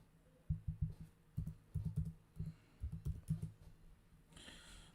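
A computer keyboard is typed on close by in quick bursts of clattering keystrokes with short pauses between words, and a brief fuller rustle comes at the end.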